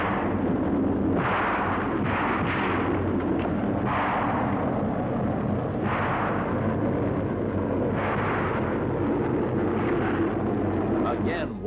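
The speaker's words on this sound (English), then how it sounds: "Here, small arms fire is used for protection." Small arms fire in a battle during the Israeli–Egyptian fighting: steady rumbling bursts of shots repeat every second or two across a dense battle din, with narration spoken over it.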